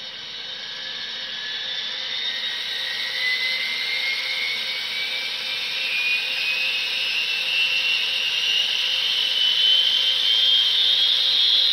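A ScaleTrains GTEL 8500 model turbine locomotive spools up with a steady high-pitched whine that slowly rises in pitch and loudness over about twelve seconds, without any talk.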